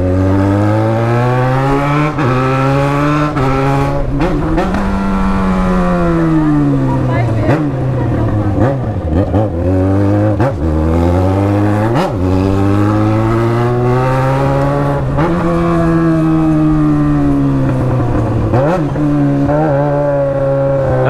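A Yamaha XJ6 motorcycle engine revs hard through repeated gear changes, its pitch climbing and dropping in rising sweeps. The sound is loud and close, carrying a woman passenger riding pillion, while a voice talks over it.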